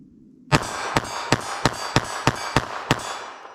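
A .32 ACP pistol loaded with Magtech JHP rounds fires eight sharp shots in quick, fairly even succession, each crack clear and close, with no talking.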